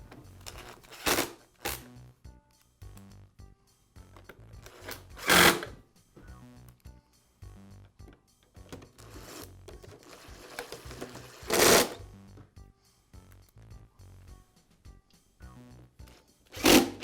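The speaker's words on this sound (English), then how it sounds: "Now I'll reinstall the screws that secure the two halves of the housing together." Screws are reinstalled on the housing of a Bostitch air compressor, with short bursts of power driver whirring separated by quiet gaps and faint handling clicks.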